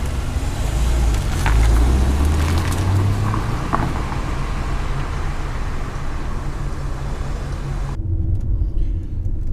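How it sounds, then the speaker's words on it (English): A 2001 BMW E46 330i Touring with a five-speed manual drives on a road test, giving a steady low engine and road rumble with a gear-change swell early on, heard from inside the car. "during the road test, just making sure the gearbox is okay, it's changing gear as it should"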